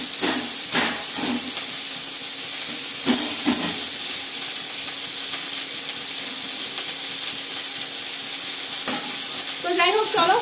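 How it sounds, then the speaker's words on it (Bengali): Potatoes frying in a pan give a steady, close sizzle throughout, broken by occasional stirring scrapes early on, with a brief voice near the end. "আলুটা বসিয়ে দিলাম ভাজা"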